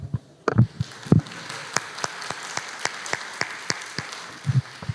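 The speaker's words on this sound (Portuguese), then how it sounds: "Uma salva de palmas para o Wagner." Sparse, scattered hand claps from a church congregation, a handful of individual claps rather than a full ovation, fairly close and moderate in level with brief low murmurs between them.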